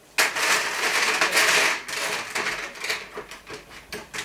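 Dried banana chips from a fruit and vegetable dehydrator rustle and crunch as they are handled, a dense crackling burst at first, then thinning into separate dry rattles, close and fairly loud.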